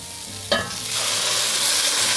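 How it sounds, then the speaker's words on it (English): Homemade broth pours into a pot of Zuppa Toscana with a sharp splash, then a steady close sizzle and bubbling as the liquid meets the hot pan. "we're going to add our broth"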